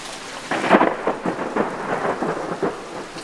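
Heavy, downpour-level rain hisses steadily while rolls of thunder rumble through it in repeated bursts, loud and close, with no voices present.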